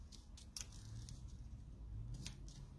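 Scissors snip through crafting material at close range, a few quick distinct cuts spaced over a few seconds, fairly quiet and with no voices over them.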